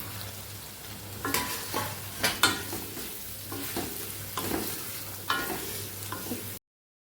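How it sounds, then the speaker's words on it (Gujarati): Potatoes sauté in a spiced masala in a pan for pahadi aloo, giving a continuous close sizzle broken by repeated scraping stirs of a spoon, with no voices. "બધું ચડી જાય ત્યાં સુધી આપણે આને આવી રીતે સાતળશું"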